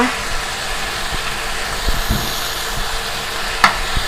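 Bacon and mushrooms with spring onion stir-fry in a pan, giving a steady, fairly loud sizzle with occasional clicks and taps of the utensil, and a voice speaks briefly over it.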